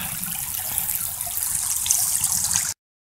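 Water rinses out a gold sluice fitted with a V-mat and Bazooka gold trap at an Ohio creek, a steady close rushing wash that runs unbroken for nearly three seconds before cutting off.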